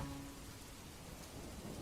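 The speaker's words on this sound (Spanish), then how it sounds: "El sonido de la lluvia golpeando las láminas del patio trasero terminó por llenar el silencio de la casa." Rain drums steadily on metal roof sheets over a backyard patio, a soft continuous hiss of patter with a low thundery rumble underneath, heard faintly from indoors.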